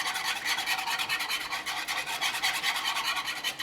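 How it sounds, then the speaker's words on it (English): A whisk works gelatin into liquid for carnivore rice, giving a fast, steady scraping swish against the bowl that repeats evenly throughout, close by with no talking. "I'm going to grab a whisk here and just whisk that in."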